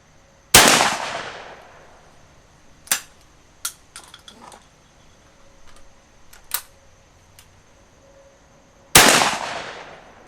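Two loud, sharp shotgun blasts from a Stevens Model 301 .410 gauge break-action single-shot, fired outdoors about eight seconds apart with a short ringing decay after each, and fainter clicks and clatter of reloading between them.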